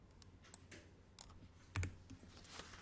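A computer keyboard key is pressed during a classroom lesson on the Hangul word processor: faint, sparse clicks over quiet room noise, with one sharper, louder keystroke near the middle.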